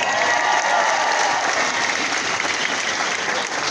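A crowd at a Brisbane 4x4 show breaks into loud, sustained applause, a dense wash of clapping that holds steady from start to finish.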